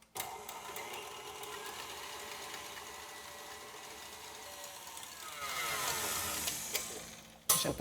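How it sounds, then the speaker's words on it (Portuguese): A stand mixer whips chilled vegetable cream toward chantilly with a steady, continuous motor whir that rises and brightens near the end before cutting off abruptly. "esse aqui é um creme vegetal que eu vou bater na batedeira"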